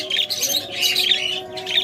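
Caged lovebirds and cockatiels give repeated sharp squawks and chirps in short bursts, several birds calling close by over a faint steady background tone.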